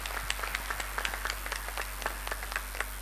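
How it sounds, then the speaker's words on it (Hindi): Audience clapping for an Indian Army deputy chief of staff at a formal gathering, a light, fairly sparse patter of hands with distinct individual claps over a steady low hum. "इनके लिए ज़रूर बजाइए तालियाँ"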